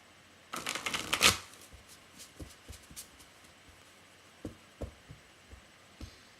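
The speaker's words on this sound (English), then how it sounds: "as I was shuffling that deck" Tarot cards riffled together in a quick crisp burst, followed by scattered soft taps and shuffles, close and quiet.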